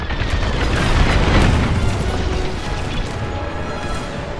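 Star Wars: Squadrons core detonation, a loud deep booming blast swelling to a peak then rolling into a long rumbling decay with debris crackle, no speech.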